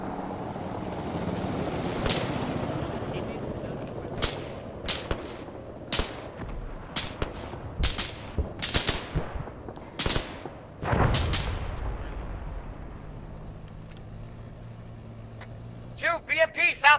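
Arma 3 combat with a BMP armored vehicle somewhere to the southeast: a steady low vehicle rumble runs under repeated sharp gunshots and bursts of gunfire, with radio-style voices talking over the battle.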